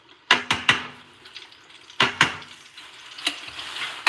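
Flounder frying in a pan at close range, a steady sizzle broken by several sharp clattering knocks of utensils against cookware in quick bursts.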